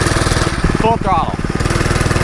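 A 79cc motorized bicycle engine held at full throttle, a loud close buzzing putter with steady rapid pulses, while a person speaks over it.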